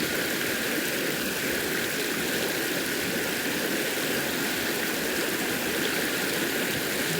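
Water rushing over river rapids and spilling into a small pool, a steady, loud, broadband roar with no pauses, heard close by and alone without any voices.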